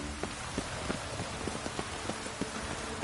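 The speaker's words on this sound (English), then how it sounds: "Looks like rain." Steady rainfall in The Witcher 3: Wild Hunt patters on a surface, with scattered sharper drops tapping irregularly over a soft continuous hiss; no voices.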